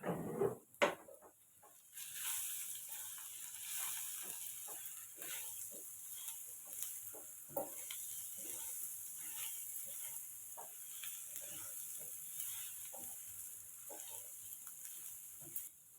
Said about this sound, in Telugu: ఇప్పుడు మనం అన్నీ మిక్స్ చేసేసుకుందాం